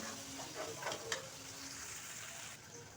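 A spoon gently stirs chopped tomatoes and green chillies frying in masala, giving a soft, steady sizzle and hiss with light scraping strokes, quiet and close.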